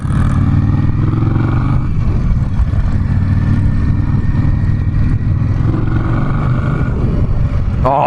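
An Indian Scout Bobber motorcycle engine on a test ride, holding a loud, steady, close drone with mild pitch shifts as it cruises, no voices present.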